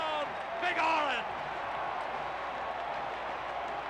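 A 1989 Tennessee football stadium crowd roars after a Tennessee touchdown, a broad sustained cheer with a brief voice rising out of it early on.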